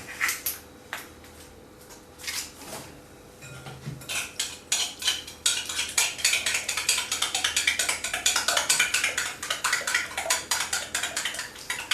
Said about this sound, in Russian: И перемешиваем тщательно.